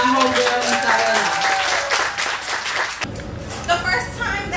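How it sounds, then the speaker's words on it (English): An audience claps at a book release event, a loud burst of applause that thins out midway, leaving scattered claps over room noise. "Give a big round of applause to my homegirl, Isabella."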